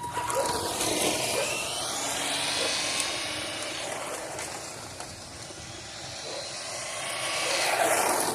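An Arrma Infraction RC car motor running stock at full throttle gives a continuous loud high-pitched whine with sweeping rises and falls, with no talking.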